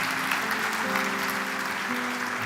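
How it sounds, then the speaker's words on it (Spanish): A church congregation applauding together during a Spanish-language sermon, a steady dense clapping that fills the whole moment, with faint sustained tones underneath. "Sí, aplauda al Señor."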